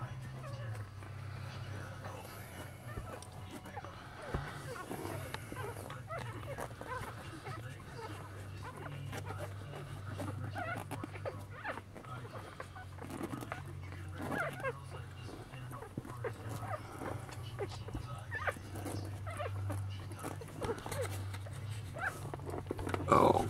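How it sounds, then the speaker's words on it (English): Faint whimpers and soft yips from several newborn Lhasa Apso puppies come through over a low steady hum, with a person talking gently at times. "Sweetie Pie, you got your puppies there?"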